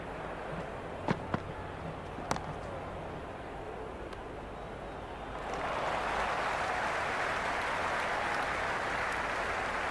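A crowd at a women's cricket match between India and England swells into loud, sustained cheering about halfway through. Before that there is a quieter murmur broken by a few sharp cracks.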